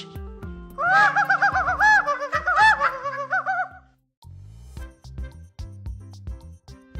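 Chickens, a rooster and hens in a vegetable patch, heard as loud close wavering clucks and calls in a burst, then softer scattered clucking and scratching noises.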